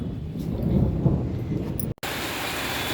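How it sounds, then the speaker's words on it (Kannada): Heavy rain with large, fat drops pours steadily, close and loud, with a low rumble like thunder, cutting out for a moment before the downpour resumes. "ಮಳೆ ಸ್ಟಾರ್ಟ್ ಆಯಿತು. ಮಳೆ ನೋಡಿ, ಓಯಮ್ಮ ದಪ್ಪ ದಪ್ಪ ಹನಿ"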